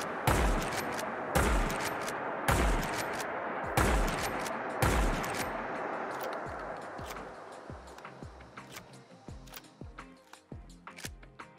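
Lever action shotgun in a Fallout 4 mod fired five times in loud, evenly spaced blasts, followed by a long run of quick metallic clicks and clacks as shells are loaded one by one.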